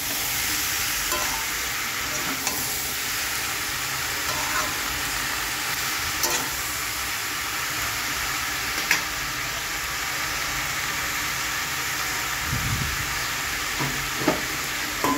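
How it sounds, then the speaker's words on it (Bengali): Boiled amaranth greens are stirred with garam masala and roasted spice powder in a frying pan, giving a steady, even sizzle under faint scraping and a few brief clinks, with no talk. "এরপরে নাড়াচাড়া করে এখানে সেদ্ধ করা নোটে শাকটা দিয়ে দেবো।"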